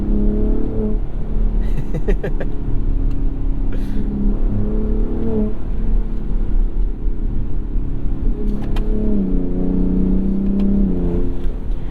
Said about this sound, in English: You'll get the occasional little pop and burble on the down rev